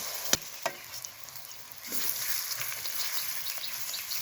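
Mashed soybeans coated in egg and gram flour go into hot white oil, giving a steady broadband sizzle that rises and holds after a couple of sharp clicks near the start, with no talking.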